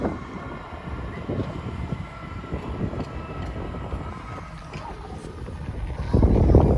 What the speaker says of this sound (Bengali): দেখেন ট্রেন যাচ্ছে